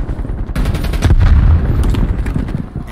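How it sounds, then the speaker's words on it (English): A grenade goes off in Call of Duty: Black Ops Cold War as a loud, close blast with a heavy low rumble, followed by rapid crackling gunfire and a fading rumble. "Throwing grenade."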